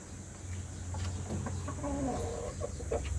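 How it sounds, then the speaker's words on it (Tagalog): Native chickens cluck repeatedly at close range in a farmyard, with soft irregular clucks and calls over a steady background hum. "Yan yung native natin. Native chicken."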